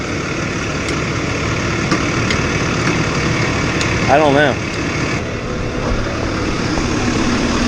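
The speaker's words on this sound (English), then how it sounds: "Nice little tractor." A small tractor engine idles steadily close by from inside a quiet cab, a continuous low rumble that runs the whole time while a voice speaks briefly partway through.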